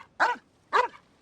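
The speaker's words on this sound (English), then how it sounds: "What are you barking at?" Two sharp, close dog barks in the video game Genshin Impact, evenly spaced about half a second apart, alone against silence.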